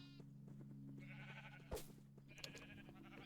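Blocky sheep bleating in a Minecraft-style survival multiplayer game, a faint, brief bleat rising over a steady hum of game ambience and background tones.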